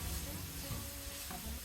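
Chicken with chopped carrots and green beans cooks in a pan for chowmein, a soft steady sizzle with faint stirring, quiet and continuous throughout.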